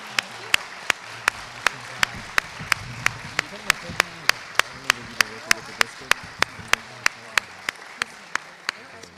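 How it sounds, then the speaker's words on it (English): An audience at a school district panel discussion applauds the panelists in a steady wash of clapping, overlaid by sharp, evenly spaced ticking clicks that run through the whole stretch. "Can we give our panelists a huge round of applause?"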